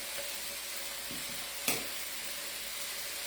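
Food frying in a non-stick pan with olive oil, a steady close sizzle with a brief sharp clink of a utensil partway through.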